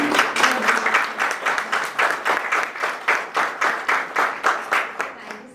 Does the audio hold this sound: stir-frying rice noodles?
no